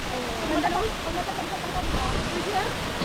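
A steady broadband rush of water from a clear waterfall in China, close and constant, with faint indistinct voices blending into the noise.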